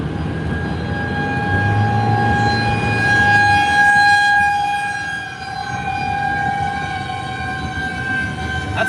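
Civil defense tornado sirens wailing during a storm in central Iowa in March 2022: a steady, loud sustained tone that holds for several seconds with a slight swell and fade, mixed with low rumble and no talking.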